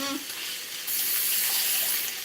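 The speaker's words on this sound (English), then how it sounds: "adding a little bit more water" Water is poured into vegan chorizo cooking in a pan, a soft splash giving way to a faint, steady hissing sizzle that carries on close by for a couple of seconds.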